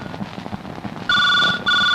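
A telephone rings loudly and close by with a bright electronic double tone, the sound starting suddenly partway through after a stretch of low background noise and pausing briefly before ringing again.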